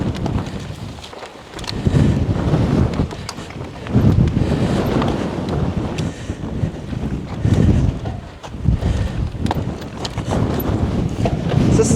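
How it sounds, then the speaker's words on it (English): Strong wind on an exposed hilltop mountain-bike trail buffets the microphone in loud, rumbling gusts that swell and ease, with no talking. "she's a windy up here too"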